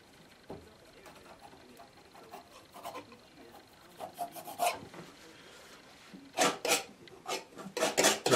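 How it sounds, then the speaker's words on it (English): Palette knife scraping bluish oil paint off a palette while knife painting in oil on board: soft, close rasping scrapes in irregular strokes, growing louder and more frequent toward the end, with quiet speech in the background. "Just scraping the bluish sky colour off the palette."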